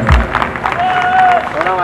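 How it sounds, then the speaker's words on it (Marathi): Loud applause and cheering from an audience at a live Buddhist devotional stage program, a dense wash of clapping with a strong thump at the start and a sustained tone running through the middle. "धन्यवाद तुमच्या या जोरदार टाळ्यांसाठी"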